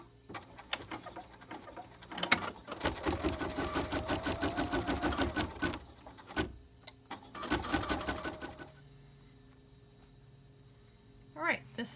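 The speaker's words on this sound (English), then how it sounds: "It's the stitch sequence number 12, tacking the lining to the back of the bag top." An embroidery machine stitches the lining onto the back of a quilted in-the-hoop zipper bag, fast rhythmic needle bursts in several runs separated by pauses, close and moderately loud.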